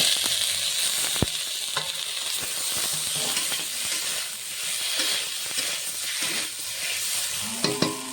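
A ground paste of ginger, cumin and garlic fries in hot oil along with onion and potato, giving a loud continuous sizzle with scattered clicks and scrapes from stirring throughout.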